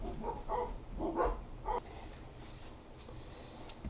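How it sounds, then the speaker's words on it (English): Several dogs bark in a few quick, fairly faint bursts somewhere off in the distance, then fall quiet, leaving only low background noise. "dogs are going wild"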